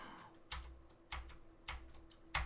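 Keys clack on a worn Commodore 64 keyboard, about five separate strokes at an uneven pace, close and fairly quiet, with a faint steady hum underneath and no talking.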